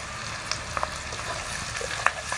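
Capsicum and carrots for chicken fried rice sizzle steadily in a hot pan, with soft scraping stirs and small pops over a constant frying hiss.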